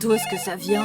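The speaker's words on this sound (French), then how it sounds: "Je crois que c'est mon téléphone." A mobile phone ringtone plays nearby with a repeating melodic pattern, while a person speaks over it.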